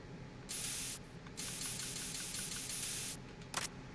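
Sustained bursts of aerosol spray hiss from a spray can in the Metal Gear Solid 2 video game, two long sprays broken by a short pause, then a brief final puff, clear and steady with no talk.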